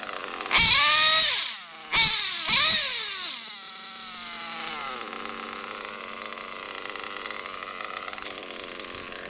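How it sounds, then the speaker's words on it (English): An O.S. Speed B21AD nitro engine in an RC truggy screams through two sharp revs, each dropping away, then settles into a steady high idle that runs on alone at close range. "You can do this pinch test where you rev it up, and then you should get like 2 to 3 seconds when you pinch the fuel line"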